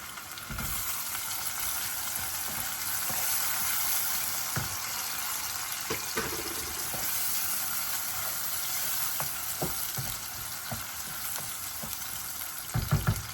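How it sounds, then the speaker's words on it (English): Tomatoes and onions fry in a pan for a curry, giving a steady, close sizzle that runs the whole time, with occasional clinks and stirring scrapes and no talk. "So here I am still cooking the tomatoes and the onions."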